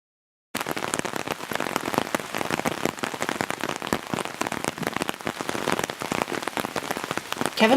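Rain falls steadily outdoors where a honey bee swarm is being collected, with a dense, continuous patter of drops hitting surfaces that starts abruptly and holds loud and even throughout.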